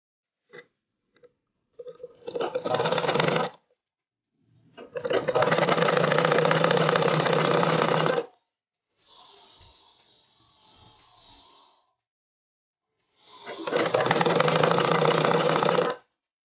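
A sewing machine stitches the hem of an umbrella frock in three bursts: a short run, a longer steady run, and another after a quiet pause with faint handling sounds. Close, loud and mechanical, with no talking.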